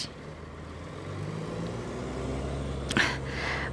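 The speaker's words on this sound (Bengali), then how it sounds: "গাড়ির আওয়াজ" A vehicle passes far off on a road at night, a low steady rumble under a broad hum, with a sharp hiss near the end like an air brake release, faint and distant.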